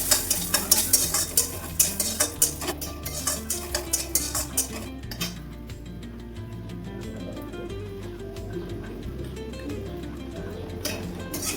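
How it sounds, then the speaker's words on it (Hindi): Dried lentil nuggets (badi) fry in a pan on low flame, with rapid rhythmic spoon-stirring clacks against the pan at first, then a softer steady sizzle; no one talks. "तो मैं इस बोड़ी को थोड़ा फ्राई कर लूँगी"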